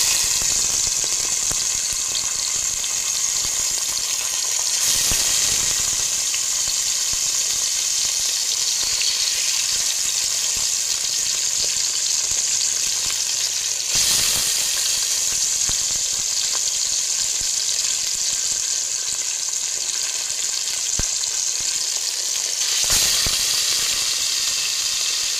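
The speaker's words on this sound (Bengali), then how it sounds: "কড়াইয়ের মধ্যে সামান্য পরিমাণ তেল দিয়ে মাছগুলো একটু ভেজে নেব।" Katla fish frying in a little oil in a wok makes a constant bright hiss and sizzle that holds level for about twenty-five seconds, with a few brief louder crackling bursts along the way.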